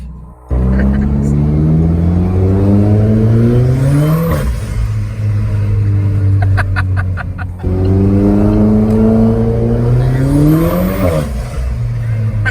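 A loud Alfa Romeo engine revs and drones while cruising between buildings, with two long rising pulls, the second following a brief dip, and the sound echoing off the surrounding walls.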